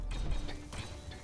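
A large printer machine in Space Engineers runs with repeated mechanical clanks and ratcheting gear clicks, steady and fairly close, with no talk over it.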